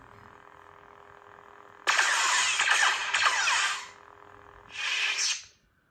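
A lightsaber on a dual master chassis fires its spark tip ignition: a sudden crackling, buzzing burst flares up and sustains for two seconds, then a second shorter sizzling burst follows before cutting to silence.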